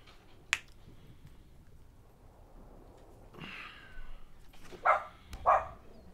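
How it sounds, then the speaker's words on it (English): Dogs in the digital card game MTG Arena give two short, bright barks close together near the end, after a sharp snap-like click and some quiet shuffling. "please stop barking!"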